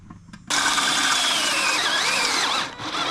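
A cordless drill bores out the holes in an adapter plate for a 56ci short-shaft OMC outboard: a loud, close, steady whirring whine that holds for over two seconds, dips briefly, then spins up again.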